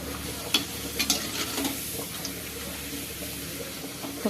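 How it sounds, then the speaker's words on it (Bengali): Papad frying in hot oil in a home kitchen gives a steady soft sizzle with scattered crackles and pops, fairly close, with no talking. "আমি ভাবলাম পাঁপড়টা ফটাফট করে ভেজে ফেলি"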